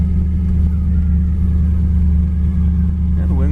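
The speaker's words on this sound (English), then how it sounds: "Car sounds great going down the road." A 1958 Chevy Impala two-door hardtop cruises down the road, its engine giving a steady low rumble inside the cabin with a constant drone and no break.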